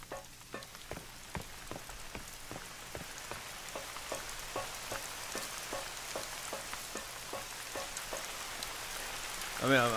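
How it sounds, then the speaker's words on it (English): Rain in the hunting game The Hunter: Call of the Wild, a steady soft patter with scattered heavier drops ticking at a fairly regular pace, faint and even, with a brief voice at the very end. "Rain's picking back up."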